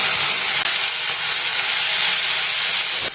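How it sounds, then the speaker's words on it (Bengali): Chopped tomatoes hitting a pan of hot blended onion, producing a loud, steady broadband sizzle and hiss that holds without a break, close up. "এবার আমি এর মধ্যে দিয়ে দিচ্ছি কুচিয়ে রাখা টমেটো।"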